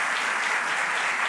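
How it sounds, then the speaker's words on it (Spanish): Sustained, loud applause from an audience at a formal ceremony in La Moneda palace for a Nobel-winning writer, dense and even throughout the short stretch with no speech over it. "Agradecemos con estos aplausos las palabras de la ministra de las Culturas, las Artes y el Patrimonio"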